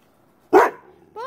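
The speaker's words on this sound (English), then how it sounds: "Don't bark at her." A dog gives one loud, close bark after a moment of quiet, then a brief whine or yip follows at the end.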